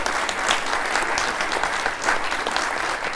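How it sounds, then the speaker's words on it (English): A crowd at a Q&A session applauds loudly and steadily, dense clapping sustained throughout without a break. "I think we should give them another round of applause"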